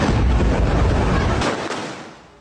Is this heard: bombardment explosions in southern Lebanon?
yes